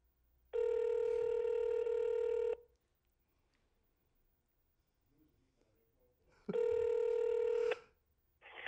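A telephone rings in two long electronic bursts separated by a few seconds of near silence, loud and close, with faint background noise between the rings and no talking.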